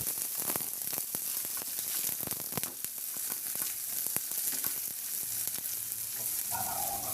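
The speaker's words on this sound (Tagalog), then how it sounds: "Magpainit muna ako ng mantika sa kawali at igisa ko na yung bawang." Garlic and onion sautéing in hot oil in a pan, a loud, dense crackling sizzle that runs throughout with frequent sharp pops and spatters, no voices.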